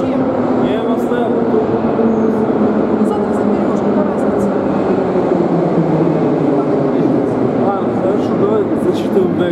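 A loud, steady rumble of a Moscow metro train moving through a tunnel, with people talking over the din.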